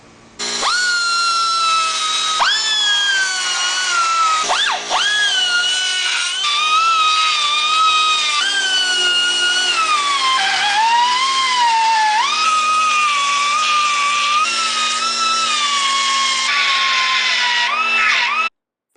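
Power tool cleaning up the edges of a welded torque box patch during car rust repair, a loud continuous whine with pitch wavering up and down as the load changes, close and steady for nearly twenty seconds.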